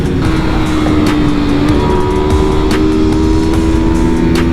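Several Yamaha R3 motorcycles racing together on a track, their engines droning loud and steady with a sustained high whine throughout, no voices over it.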